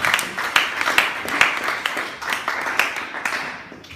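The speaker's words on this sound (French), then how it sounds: "Acclamons très fort le Seigneur." A church congregation applauds at a Sunday service, producing a dense, steady wash of many hands clapping close by that swells and eases slightly over a few seconds.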